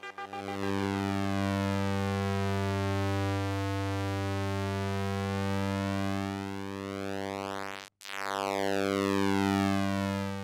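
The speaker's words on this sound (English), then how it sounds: "So what you're hearing there is the sound of the LEDs." LED light picked up by a solar-panel microphone and turned into sound: a steady electronic tone with sweeping, chirp-like overtones that drops out for a moment near the end and then resumes. It is fairly quiet and there is no talking.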